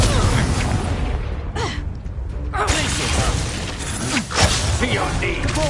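Confringo blasting-curse explosions in Hogwarts Legacy combat, a dense run of loud bursts and crackling blasts over rumbling battle noise, with voices talking beneath the chaos.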